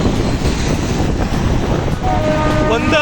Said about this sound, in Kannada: ಒಂದೇ ಲೈನ್ದಾಗ ಇದು ಲೋಕಲ್ ಹೊಂಟದ